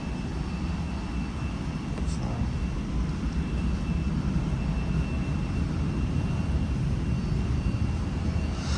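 An airplane at JFK airport produces a continuous low jet-engine roar, steady and fairly distant throughout.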